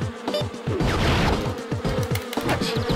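Game bees buzzing in Crash of the Titans on GBA, a dense, rough insect drone with rapid pulsing and clicky game effects throughout, loud and continuous without pause.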